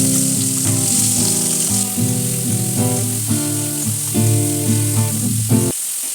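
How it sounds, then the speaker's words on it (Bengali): Prawns frying in hot mustard oil in a wok give a steady, close sizzling hiss that runs almost the whole time beneath continuous tuneful background music, then cuts off near the end. "এবার একটা কড়াইয়ে সর্ষের তেল গরম করে নিয়ে তার মধ্যে এক এক করে মাছগুলো ভেজে নেব।"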